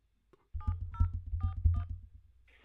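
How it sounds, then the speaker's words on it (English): Four clear telephone keypad DTMF tones ring out in a quick, even sequence as a number is entered. A low hum sits underneath, and a brief higher tone follows at the end. "Please enter the 4-digit number of your favourite girl, and we'll put you through"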